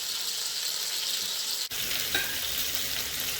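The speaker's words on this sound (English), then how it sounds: "I got these pretty much seared how I like them" Pork pieces searing in an Instant Pot, a steady bright sizzle that carries on throughout, with a brief dip partway and a faint metallic click shortly after.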